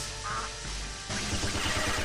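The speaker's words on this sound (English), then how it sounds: "I found a secret duck" A duck quacks in the Jets'n'Guns video game, a short burst of quacks set against loud game effects and a thudding background score.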